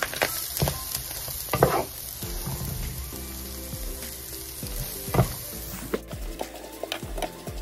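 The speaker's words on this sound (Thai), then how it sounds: "จะผัดให้ผักสลดก่อนนะคะก่อนที่จะเอาวุ้นเส้นใส่ลงไป" Vegetables are stir-fried in a pan with coconut oil and salted egg yolk, a close steady sizzle broken by repeated scraping and clanking stirs, with no voices.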